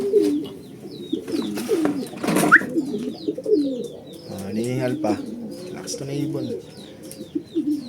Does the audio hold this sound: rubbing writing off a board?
no